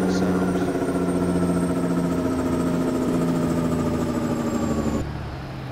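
Steady engine drone of a truck in the video game American Truck Simulator just after a downshift to sixth gear, loud and continuous with strong low harmonics, dropping in level near the end; no talk over it.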